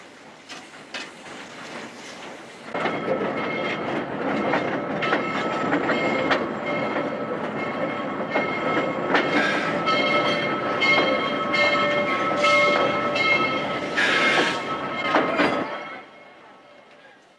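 A train runs along rails in Rondônia, Amazonia, with a steady loud rumble, clattering wheels and some squealing tones, starting abruptly and cutting off near the end, and a voice speaks faintly beneath it.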